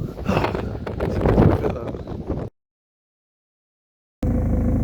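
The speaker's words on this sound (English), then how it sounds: "running into the absurdly high winds" Very strong wind blows across a road, roaring and buffeting the microphone loudly for a couple of seconds before the sound cuts to silence, then a steady low rumble resumes.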